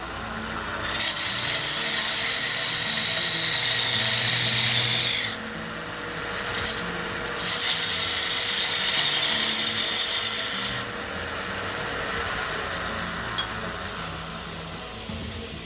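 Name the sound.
wood baseball bat being cut on a lathe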